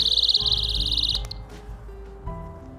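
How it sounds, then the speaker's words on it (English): Small birds chirping beside the Alaska Highway, rapid high trilling calls for about a second, then quieter scattered sounds and low rumble, with no talking. "I scared the birds."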